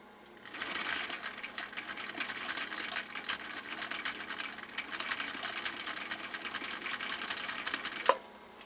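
A 1959 Husqvarna Viking CI-21A sewing machine running steadily for several seconds, a close, even mechanical whir with fast needle ticking, ending in a brief click as it stops.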